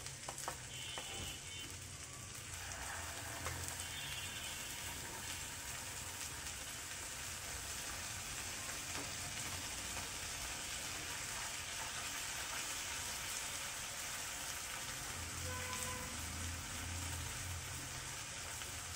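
Ginger garlic paste frying in a pan for chicken puli, a steady, dense sizzle that hisses continuously throughout at a moderate level without any talk.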